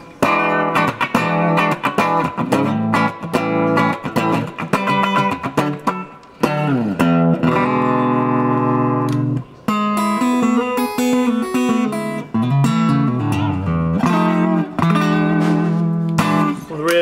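An electric guitar played through an Orange Crush 35RT amplifier gives distorted strummed chords and riffs with short pauses between phrases, loud and close throughout.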